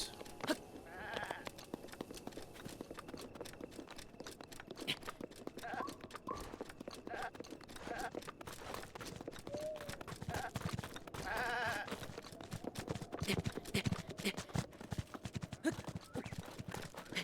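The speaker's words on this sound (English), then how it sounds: "A lot of goats." Goats bleat in a Zelda Breath of the Wild game scene, several short bleats scattered over a busy, clattering background of steps and game sounds, moderately loud and continuous.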